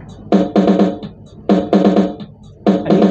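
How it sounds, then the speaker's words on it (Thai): VOX AC1 Rhythm amplifier playing a preset drum pattern, loud punchy hits in short repeating bursts with brief gaps between, alone with no talking. "อันนี้คือเสียงกลองแบบล็อกนะครับ"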